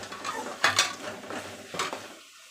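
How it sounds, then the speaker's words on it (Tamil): A spoon stirs chilli powder spice mix in a pan for okra kara kulambu, several distinct scraping strokes with light sizzle, close and without talk, fading out at the end. "நல்லா இப்படி கிளறிக்கோங்க"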